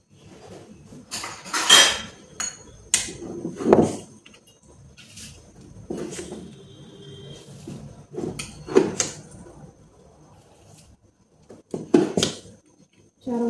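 A spoon clinks and scrapes against a vessel while stirring sugar into milk in a home kitchen, with several sharp metallic knocks and clatters separated by quiet pauses.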